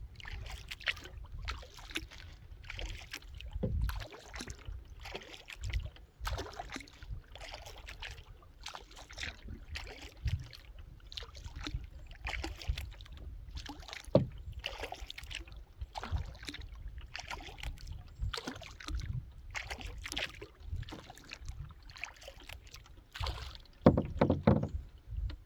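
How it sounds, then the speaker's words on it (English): A canoe paddled across a lake in wilderness, with a steady rhythm of soft splashes and strokes, repeating every second or two, close and fairly quiet, with occasional knocks of the paddle against the hull. "So I'm gonna keep paddling."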